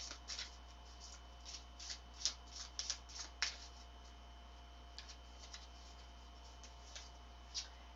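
Sacred Creator Oracle cards are shuffled by hand in a quiet room, a string of soft, irregular riffling and slapping bursts, close and faint with no voices.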